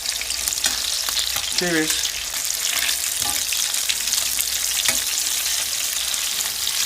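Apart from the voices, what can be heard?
meatballs frying in a steel pan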